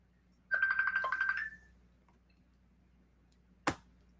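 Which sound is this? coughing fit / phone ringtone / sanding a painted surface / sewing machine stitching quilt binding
phone ringtone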